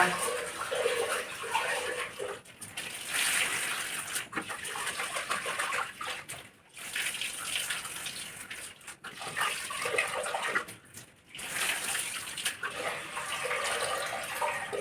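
Lentils being washed under running water in a home kitchen before going into a pressure cooker, a steady broadband rush of tap water and sloshing with a few brief pauses, some faint background sounds.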